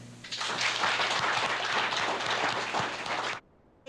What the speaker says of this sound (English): Round of applause for Jason Horner.